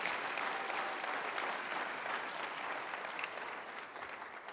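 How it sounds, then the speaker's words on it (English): A church congregation clapping together, a sustained wash of applause filling the room that slowly thins toward the end. "if one person's going to clap, let's all clap."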